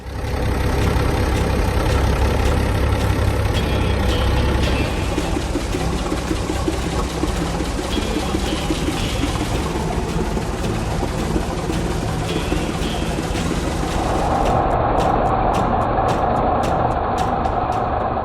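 A Minneapolis Moline G705 agricultural tractor, built 1962–1965, runs its engine close by in a steady, rumbling idle with a deep low throb that eases off partway through, continuing alone without voices.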